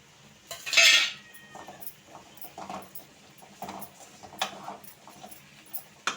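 A spoon scrapes and clinks against a pan while masala sundal is stirred, with a bright metallic clatter at first followed by scattered lighter taps and scrapes, close by.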